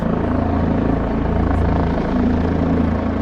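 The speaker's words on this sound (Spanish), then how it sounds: "Ahí llegó nuevamente el helicóptero y está bajando un balde hacia el sector de los baños." A helicopter arrives and lowers a bucket toward the restroom area at Lake Louise in Banff, Canada; its rotor thump and engine roar are loud, close and continuous throughout, with no talk.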